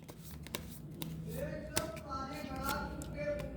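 Tarot cards are shuffled and handled close up, with soft riffling and a few sharp taps of cards, under a person talking throughout.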